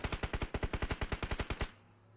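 Rapid automatic gunfire in the PUBG Mobile video game during a competitive esports match, a steady burst of about twenty evenly spaced shots over under two seconds, close and punchy, ending abruptly into quiet.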